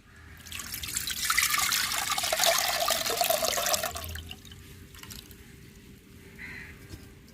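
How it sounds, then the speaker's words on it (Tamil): Tamarind water is poured into a simmering fish curry, a steady liquid trickle and splash that swells for a few seconds and then tapers into faint drips, near and without talk. "ஐம்பது கிராம் புளியை கரைச்சி வச்சுக்கிறோம் ஊற்றிக்கிறோங்க"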